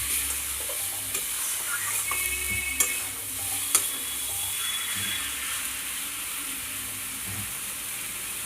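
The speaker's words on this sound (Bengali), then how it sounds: "এবার লোটে মাছগুলো দিয়ে আমি নেড়ে নেব" Bombay duck (lote fish) stirred in a pan, a steady frying sizzle with scraping spatula strokes and a couple of sharp clinks against the metal, close and continuous.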